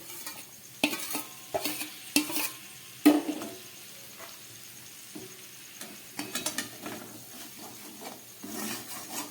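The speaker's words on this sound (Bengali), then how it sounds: "এবারে আমি এর মধ্যে দিয়ে দিচ্ছি এই ভেজে রাখা গুগলিটা" Fried snails added to a pan of dried-out spice paste and stirred, heard as soft scraping, clacking and rubbing of a utensil against the pan in irregular bursts, faint and close, with quiet gaps between.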